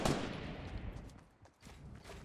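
Gunfire in Fortnite Battle Royale, a sharp loud shot at the start followed by a scatter of quieter rapid shots and a brief lull, with faint voices.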